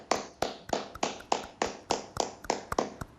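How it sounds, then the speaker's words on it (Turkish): A single person claps out a steady rhythm, about a dozen crisp, close hand claps in even succession, alone with no talk. "Mesela ben Üstad Sezin Kuruşçu'yu alkışlamak istediğinde şöyle alkışlayalım değil mi?"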